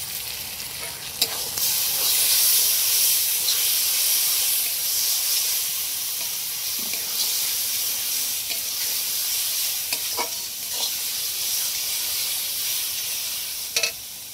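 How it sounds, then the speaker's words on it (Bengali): Ginger garlic paste frying with browned onions in a pan for a country red rooster curry, a continuous loud sizzle and hiss with occasional stirring scrapes and knocks. "এবার আদা রসুন পেস্টটা দিয়ে দিচ্ছি। এটা একটু ভালো করে ফ্রাই করে নেবো।"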